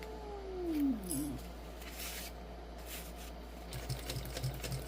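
A domestic sewing machine stitches a bag pocket near a zipper, a quiet continuous mechanical whir with light rhythmic clicking and a brief rising whine early on, no talking.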